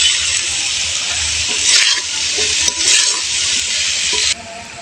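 Boiled taro stolons are stirred into frying masala in a pan for a taro stolon and prawn dish, a loud continuous sizzle with a few stirring scrapes, then a quieter fry near the end.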